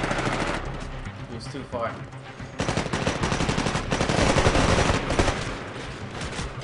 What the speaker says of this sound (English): I love how the weapons sound